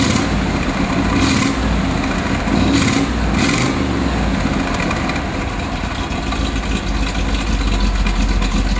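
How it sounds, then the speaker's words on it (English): Idling exhaust of a 1967 Chevrolet Corvette coupe, a steady low rumble at the tailpipes, close and fairly loud, with a few faint higher rasps over the continuous drone and no talk. "Listen to the tailpipes of this car"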